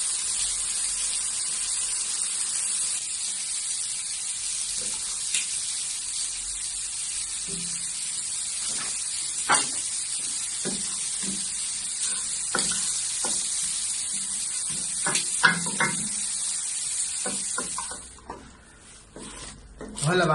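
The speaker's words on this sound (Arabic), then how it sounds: "وهلا متى ما رفع عندي الفطر بضيف عليه الكريمة" Cream is poured over mushrooms in a hot pan, setting off a steady loud sizzle with scattered stirring clicks and scrapes of a utensil, close by throughout.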